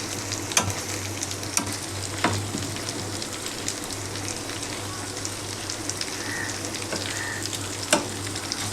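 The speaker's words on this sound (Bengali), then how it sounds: "চিকেন ভাজাটা আমার হয়ে গেছে, এবার নামিয়ে নেবো।" Chicken pieces for homestyle tandoori fry in a pan with a steady crackling sizzle, punctuated by a few sharper pops and spatters, close and even in level, with no talk.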